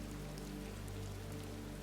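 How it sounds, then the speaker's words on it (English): Steady rain falls through a town in the rainy season in Marrakech, a soft, even hiss of drops with a low background hum, continuous and without voices. "the rain still falling in this, the rainy season"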